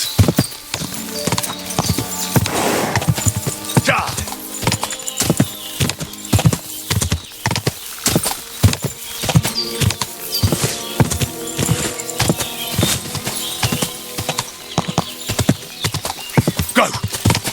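Horse hooves clip-clop steadily and close in Kingdom Come Deliverance II, with occasional neighing and whinnies over a busy game soundscape and faint background music.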